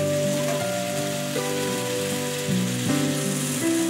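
A hilsa fish head curry simmers in a pot with a steady, bubbling hiss that runs beneath fairly loud background music.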